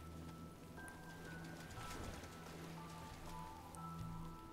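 Steady rainfall in the Elder Scrolls IV: Oblivion video game, a soft continuous patter with faint tonal ambient music underneath and no talking.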